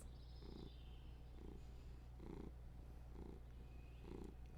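A zoo animal in the Planet Zoo game purrs softly in a slow, regular rhythm of about five pulses over a faint steady background hum, with no talking.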